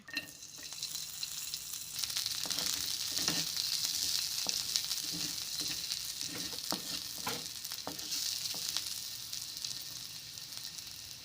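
Garlic sautéing in hot cooking oil, a steady loud sizzle with occasional stirring scrapes and light pops, close up and with no voices over it.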